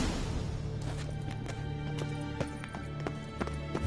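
A horse gallops in The Witcher 3 video game, its hooves striking in a fast, steady clip-clop that stays loud and continuous over background game music.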